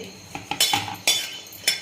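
Charoli nuts dry-roasting in a hot kadhai are stirred, giving a few sharp metallic scrapes and clinks of the spoon against the pan in an irregular rhythm, close and fairly loud, with no talking.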